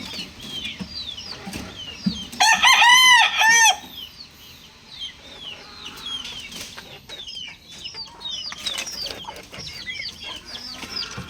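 A white Kelso gamefowl rooster lets out one loud, close crow in a backyard, surrounded by scattered clucks and calls from other chickens.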